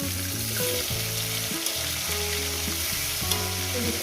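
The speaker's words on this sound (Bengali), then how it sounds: "মাছগুলো আমার ভাজা হয়ে গেছে" Pieces of rohu fish frying in hot oil give a loud, close, continuous sizzle with steady crackle and no voices.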